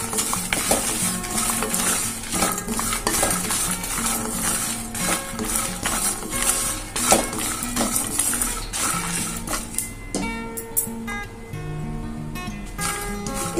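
Cumin and sesame seeds frying in a pan for a stuffed brinjal masala curry, a busy steady crackle with frequent metallic scrapes and clinks of a spoon stirring against the pan.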